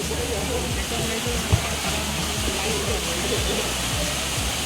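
Waterfall in Jibhi heard as a loud, continuous hissing roar of falling water close at hand, even in level apart from one short thump.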